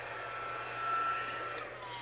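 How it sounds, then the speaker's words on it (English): A craft heat tool set on low blows a steady, soft whir of air while drying stamped ink on paper, alone, with no voice. "And I am going to get out my heat tool and dry it."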